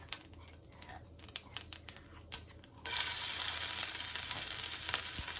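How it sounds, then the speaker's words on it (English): Garlic and chili tipped into hot oil with popping mustard seeds for Mumbai vada pav: a few sharp crackles, then a sudden steady loud sizzle that fills the rest, no voices. "this garlic and chili is ready. So let's put it in here in the oil."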